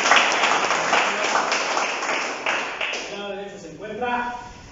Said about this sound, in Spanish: Bienvenido, Manuel, entonces un aplauso.